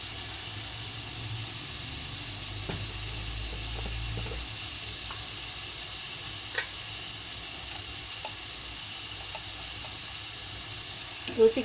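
Prawn curry with turmeric sizzles in a pan under a steady frying hiss, broken by occasional soft scrapes and taps as it is stirred, with a slightly louder clatter at the end.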